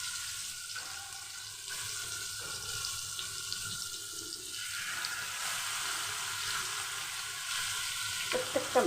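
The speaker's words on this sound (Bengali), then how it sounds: "মশলা সমেত মাছগুলো দিয়ে দিচ্ছি।" Masala-coated rohu fish pieces frying together in a large pan give a steady, close sizzle with soft crackles throughout and no voices.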